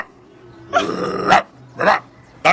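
A person imitates a big, well-fed German Shepherd barking, giving a long throaty bark followed by two shorter, sharp barks, loud and close.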